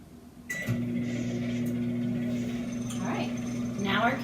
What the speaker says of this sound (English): (130) on the microwave. And I'm going to push start.